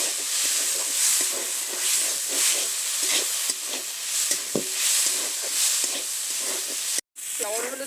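Lentils frying in a pan with salt and turmeric, a steady close sizzle and hiss with faint stirring clicks throughout, broken by a brief gap near the end.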